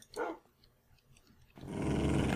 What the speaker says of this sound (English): he will growl whenever a creeper is nearby to let you know